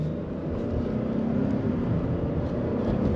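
A 2023 Ford Expedition XLT with a twin-turbo V6 accelerating, its engine a steady low rumble heard from inside the cabin, continuous and moderately loud with no voices.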